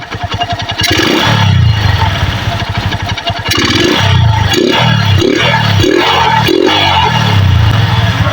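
A motorcycle engine with a freshly serviced carburetor starts up and idles close by, a loud, uneven putter that surges in short revs and settles into a rough, pulsing idle.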